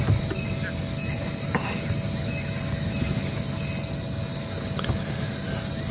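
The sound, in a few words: large cricket chirping at game reserve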